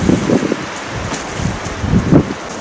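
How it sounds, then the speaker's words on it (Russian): Gusty wind buffets the microphone in low rumbling bursts, with a faint rustle underneath and no voices. "Меня заколебал этот ветер."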